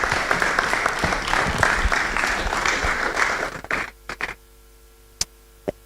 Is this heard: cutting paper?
no